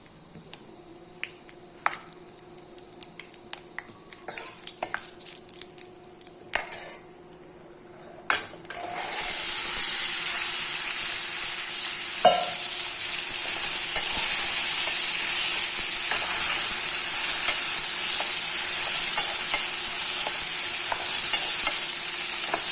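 Asafoetida dropped into a hot pan sets off a loud, steady sizzle of frying that persists to the end, preceded by scattered clinks and scrapes of a spoon stirring against the pan while preparing Navaratri ven pongal.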